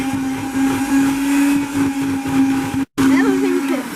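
A SilverCrest SHM 300 C1 hand mixer whirring through pancake batter, a loud, close, steady motor drone that briefly cuts out for a moment before resuming.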